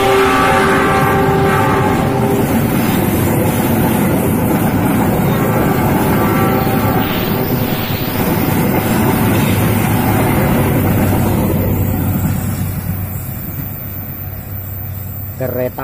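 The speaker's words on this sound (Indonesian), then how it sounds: "sudah kelihatan nih kereta api Gajah Yana" A Gajah Yana passenger train rushes past at a level crossing beside rice fields in Blitar, a loud, steady roar and rumble with wind buffeting, easing slightly toward the end.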